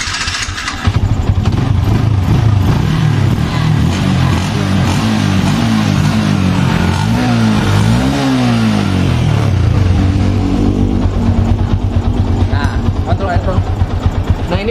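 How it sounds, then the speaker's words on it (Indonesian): A Yamaha Vixion motorcycle with a faulty starter and electrical system, its engine running loud and close with a steady drone that rises and falls in pitch as the revs change. "Oh, ini starter."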